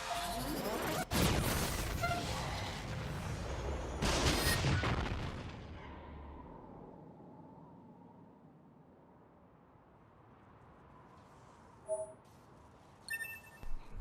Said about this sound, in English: Close range firing mode. Maximum output. 9S. Fire.